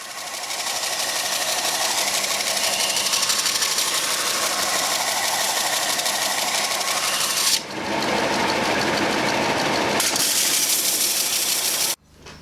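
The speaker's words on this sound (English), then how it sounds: "I've dragged the belt sander out here because it's now just underneath a dust extractor" A belt sander grinds a forged parang blade made from a farrier's rasp, giving a loud continuous whine and rasp that shifts in tone partway through and drops out briefly near the end, with no talking.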